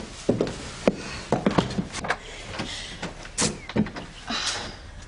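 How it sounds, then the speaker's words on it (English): A front door in a house is answered and opened, with footsteps and sharp handle and latch clicks, then the creak and thud of the door moving, all close and with no speech. "Answering my own door in my own house."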